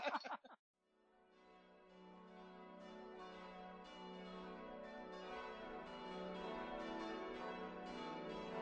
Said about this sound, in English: you can tell by the sound of the church bells